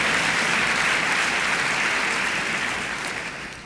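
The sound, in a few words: audience clapping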